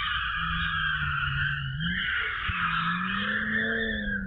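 A BMW M2 skids with a sustained, loud tire squeal over a steady engine drone; the squeal wavers and shifts pitch throughout, close and with no talking.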